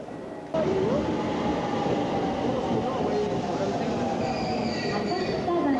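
Passenger train in Japan, heard from on board or on a platform as a steady, loud rumble with faint wheel squeal, continuous throughout with a sharp rise in level after the opening half second.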